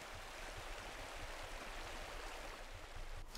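A river and waterfall in the Pentiment video game make a steady rushing roar of falling water that fills the scene evenly, with no other sounds standing out.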